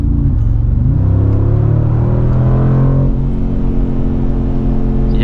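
A Mercedes G-Wagon's engine revs up loud and close in a rising roar, then settles into a steady rumble during a late-night drive through Dubai.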